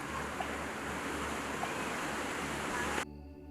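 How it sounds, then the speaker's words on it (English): Ocean waves wash onto the shore in a steady, dense roar with no voices, then cut off abruptly near the end. "Some might feel their inner peace by watching the waves of the ocean."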